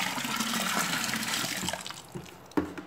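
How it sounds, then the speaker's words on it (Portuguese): Water running and splashing while a bucket is rinsed out after making aloe vera and lemon liquid soap, a steady gush that tapers into trickles, drips and a final slosh, fairly quiet. "tô dando uma lavadinha no balde"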